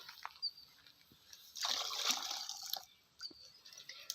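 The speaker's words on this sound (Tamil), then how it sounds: "ஸோ கொதித்த அந்த தண்ணியை எடுத்து நாம் கீழே ஊற்றிக்கலாம்" Quiet splashing of boiled water being poured out of a stone pot for about a second, soft and close, with faint drips before and after.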